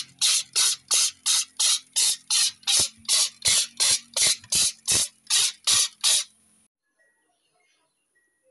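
Water sprays in short forceful bursts onto a screen-printing screen during cleaning, about fifteen evenly spaced loud hissing blasts in a steady rhythm, then silence.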